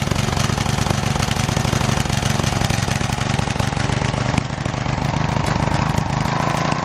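A racing lawn mower engine runs steadily and loud up close, its rapid even chugging continuing without a break, raw and unmuffled.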